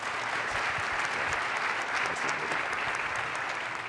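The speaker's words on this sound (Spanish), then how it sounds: "Démosle un fuerte aplauso, por favor." Audience applause at the close of a keynote lecture and Q&A session at the Universidad de Monterrey, a dense, steady wash of clapping from a large crowd that fills the whole four seconds at an even level.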